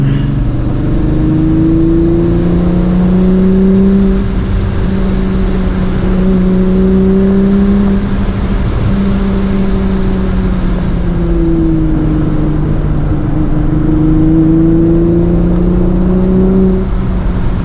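Steady engine drone of an MK3 Volkswagen Jetta driving at about 30 mph, rising and falling in pitch as it accelerates and shifts, heard from inside with continuous road noise.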